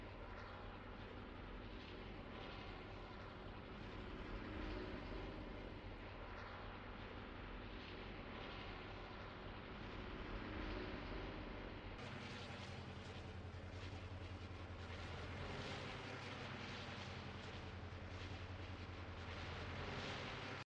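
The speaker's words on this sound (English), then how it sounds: "There was some leaked audio files of the plane, so I'm actually gonna play the audio for you right now." Airplane sound from the video game Fortnite: a steady droning engine hum with a broad roar, holding constant, then brightening and growing fuller partway through, heard alone.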